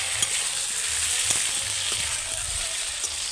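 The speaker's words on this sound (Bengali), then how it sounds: "এবারে আদা রসুন বাটা আর কাঁচা লঙ্কা টমেটো এইভাবে একটু নাড়াচাড়া করে নিতে হবে" Ginger garlic paste, green chilli and tomato sizzle steadily in a hot pan for a fish curry, a continuous frying hiss broken by faint scrapes of stirring.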